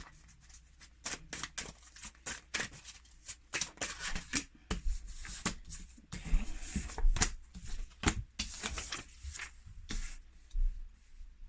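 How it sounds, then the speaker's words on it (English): Tarot cards being shuffled by hand in repeated quick riffles and flicks, crisp and close, with short pauses between bursts and no voices. "So we'll just give the cards a little shuffle."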